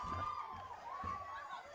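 Football crowd at a Bendigo league match between Sandhurst and Golden Square cheering after a goal, a sustained, moderately distant roar of voices with whoops, steady across the whole moment.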